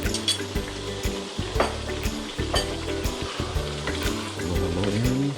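Igado, pork and liver, sizzles steadily in a pan while being stirred, with repeated scraping and clattering strokes of the utensil over the constant frying hiss.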